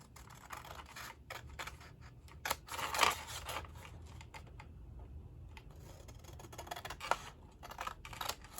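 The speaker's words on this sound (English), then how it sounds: "all these we're going to cut straight up" Scissors making a series of straight cuts through cardstock, crisp close snips spaced irregularly in a quiet room.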